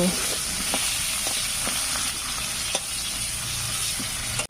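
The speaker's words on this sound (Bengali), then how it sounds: "কড়াইয়ের তেলের ভিতরে একটা পেঁয়াজ কুচি করে কেটে দিয়ে দিয়েছি দিয়ে ভালো করে ভালো করে ভেজে নেব" Chopped onion and spices frying in oil in a wok, giving a steady close sizzle and hiss throughout, with faint stirring scrapes over it.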